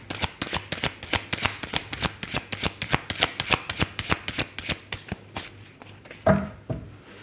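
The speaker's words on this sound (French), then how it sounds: "on va tirer quelques cartes des anges et des cristaux" Angel and crystal oracle cards are shuffled and drawn, a steady run of crisp, evenly spaced riffling flicks close up that slows and stops near the end with a brief knock.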